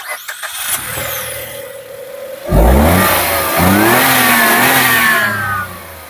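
A 2025 Maruti Suzuki Dzire Tour S CNG's 1.2-litre three-cylinder engine cranks, catches and revs up, climbing in pitch through a couple of throttle blips before settling back, loud and close.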